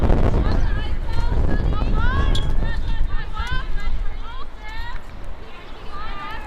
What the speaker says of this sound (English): an uncharacteristically windy day here in Tucson